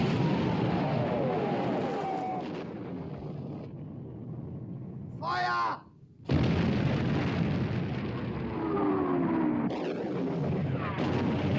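Warship gunfire and shell explosions at sea off the battleship Bismarck, with heavy booming blasts and rumbling over a dense roar, a brief gap of quieter sound, then the thunderous bursts resume, loud and close.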